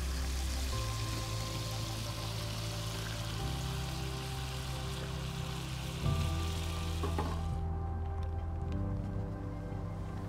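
Butter sizzles and crackles steadily in a frying pan for a curry puffer fish dish, a dense continuous hiss under a low steady hum from the surroundings, with one brief clunk partway through.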